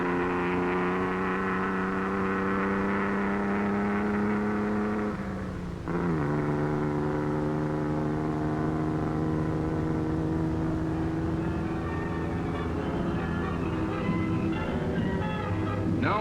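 An Austin Healey driven by Carroll Shelby accelerates on the Bonneville salt flats, its engine note loud and steady with harmonics that climb, drop briefly at a gear change, then climb again.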